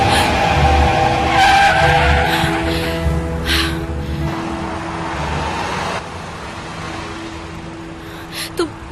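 A speeding car skids with long tire squeals and a roaring engine, loud and close, with a gasp and short voices breaking in near the end.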